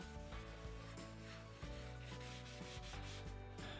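Close hand sanding with 220-grit paper on white-painted light pine gives a brisk, even series of rasping rubs to smooth out brush strokes. The rhythmic strokes continue without pause.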